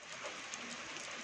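Rain falls steadily in a village in Bayburt, Turkey, in August, producing a dense, even hiss of drops with no voices.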